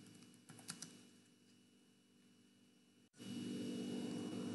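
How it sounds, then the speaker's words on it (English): Light typing on a computer keyboard, a few quick soft key taps early on, followed by a sudden shift to a louder steady hum. "So if you want to terminate this session, you can just type"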